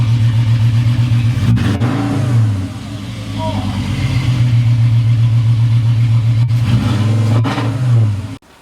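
A loud, raw Mk4 Volkswagen Golf engine with its exhaust removed revs hard and drops back to a rough idle, then revs again, deep and unmuffled, close by.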